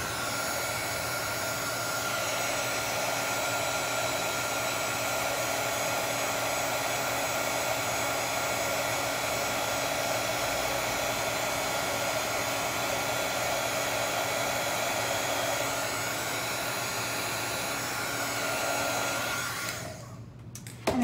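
A hair dryer or heat gun blows steadily on Dixie Belle crackle medium paint, a loud, continuous whirring roar that holds for about twenty seconds before cutting off near the end.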